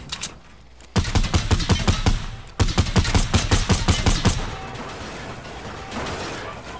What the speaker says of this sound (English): I'm about to shoot there now